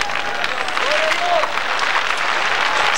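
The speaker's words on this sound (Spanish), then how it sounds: "Hagamos palmas juntos" A crowd at a 1998 religious revival campaign in Santiago, Chile claps hands together in a dense, steady roar of applause that fills all three seconds, with a voice faintly audible over it.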